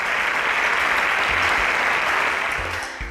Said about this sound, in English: A round of applause for them as they present.